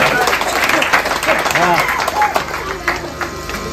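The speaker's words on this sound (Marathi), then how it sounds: "साधारण जोरदार टाळ्या वाजवा." A crowd claps steadily and loudly at a prize ceremony during a gondhal celebration, with voices calling and talking over the continuous applause.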